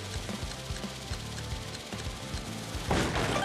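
A Bob-omb bomb explodes in the Paper Mario RPG remake. A short, loud, noisy blast near the end rises over a busy game background of thumps and music.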